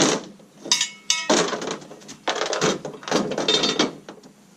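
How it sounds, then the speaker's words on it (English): A metal jack stand is shifted into place under a Kubota tractor, giving close, uneven clanks and scraping knocks of metal on metal that run through a few seconds, with no speech. "Let's go ahead and try to get this jack stand in here to be ready."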